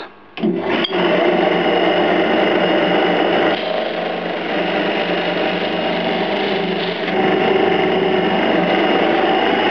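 A homemade thickness drum sander loaded with 120-grit paper runs loud and steady for about ten seconds, grinding a piece of wood flat under a continuous whirring motor hum with slight shifts in pitch.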